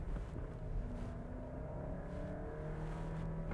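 A 2022 Audi Q5 engine hums steadily as the SUV drives through a set of bends, a close, sustained low drone with faint pitch rises suggesting gentle acceleration, and no talking.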